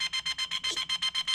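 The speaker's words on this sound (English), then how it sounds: "It goes through those beepings to let you know what's happening." A Traxxas Fusion speed controller in a Traxxas TRX4 gives a run of calibration beeps, about ten short, evenly spaced, fairly loud electronic tones in a steady rhythm, with no voices.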